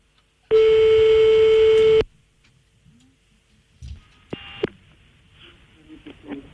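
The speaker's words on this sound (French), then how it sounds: "on appelle un monsieur, Madame Poubelle" A telephone line tone during a French radio prank call: a loud steady tone of about a second and a half, then quieter clicks and a short second tone burst with faint background noise.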